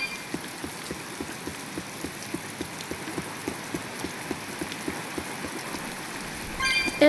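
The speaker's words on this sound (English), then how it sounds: "It's raining." Rain falls in the Tales of Berseria video game as a soft, steady patter with faint regular ticking drops, ending in a brief louder rustle.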